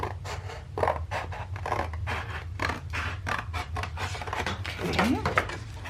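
Scissors snip and rasp through a cardboard popcorn box being trimmed, a quick run of short, close cutting strokes with scratchy crunches in a steady rhythm.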